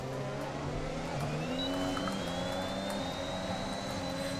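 Formula 1 race car engine from the F1 2021 game roars steadily and loudly, its pitch rising as the car accelerates, with other cars droning alongside.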